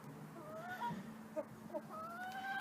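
Chickens newly settled in a coop and run, giving a few soft clucks and rising, drawn-out calls, fairly close against a quiet background.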